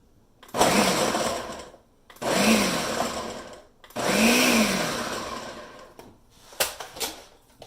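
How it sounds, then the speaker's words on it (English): A blender or food processor pulses onions and peppers for sofrito in three loud, close bursts of whirring motor, each lasting a second or two, separated by brief pauses and followed by a few clicks. "And then we're just going to pulse those a little bit."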